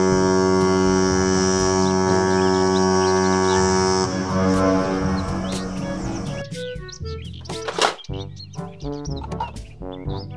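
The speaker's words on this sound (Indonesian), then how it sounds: "Kapal pesiar" A cruise ship horn sounds a long, sustained, deep blast that gradually fades, giving way to shorter chirping and tonal sounds toward the end.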